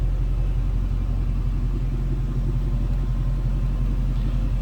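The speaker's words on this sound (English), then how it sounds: "nice rumble coming out of those Flowmasters" A 1935 Ford Cabriolet street rod idles through Flowmaster mufflers, giving a steady, close, loud low exhaust rumble that holds even throughout with no talking.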